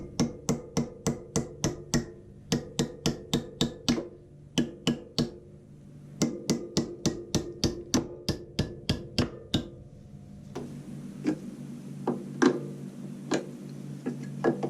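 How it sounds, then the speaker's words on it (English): Rapid metallic hammer strikes beat custom side covers for a GS850 motorcycle into shape, in bursts of rhythmic blows with short pauses, then a brighter ringing series of hits on metal, close and loud. "get a hammer and beat those down into shape"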